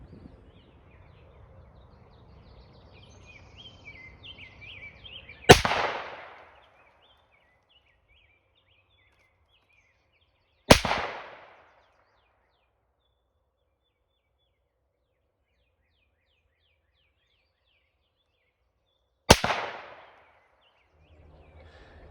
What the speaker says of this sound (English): At this point I'm going to fire my first 100-yard 3-shot group